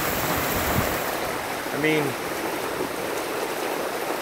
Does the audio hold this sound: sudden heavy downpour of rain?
yes